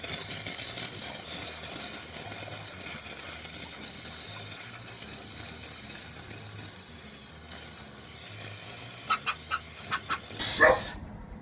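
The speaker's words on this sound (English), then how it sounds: "It's just a steamer, Diesel" A clothes steamer hisses steadily and softly while sneakers are cleaned. Near the end a dog gives a few short barks.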